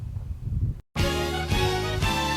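A drum beat plays after a short break: punchy kick, thick rim shots and steady hi-hats in a looping pattern, loud and close.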